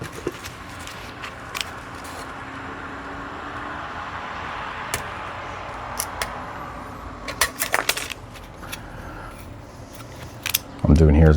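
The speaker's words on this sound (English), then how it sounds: "What I'm doing here is I'm just cutting the extra right off the end." Scissors trim excess nickel strip off a spot-welded e-bike battery pack, giving sharp metallic snips and clicks that come sparsely and then cluster, over a quiet background, with a heavy thump at the end.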